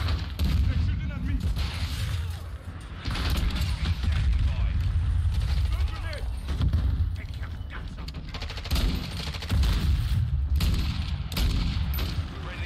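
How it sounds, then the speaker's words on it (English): Dense, continuous gunfire in a shooter video game, with rapid bursts and booms layered over each other for the whole stretch, loud and busy with game effects underneath. "They're shooting at me."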